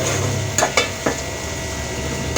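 Spices sizzle in a hot pan while a utensil stirs them, giving a few sharp scrapes and clinks over a low, continuous frying hiss.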